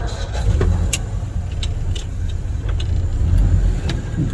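A 1961 Ford engine running on a chilly winter evening, a steady low rumble with faint clicks on top, held at an even level throughout.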